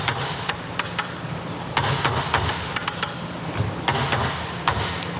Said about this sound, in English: we got our Swench wrench that can output 800 foot-pounds